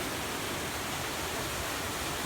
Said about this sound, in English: It's like glacier runoff from Middle Sister.